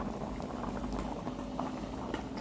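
Tilapia chili dip bubbling at a steady rolling boil in a pot, a dense continuous simmering hiss with small irregular pops, close and moderately quiet with no talking.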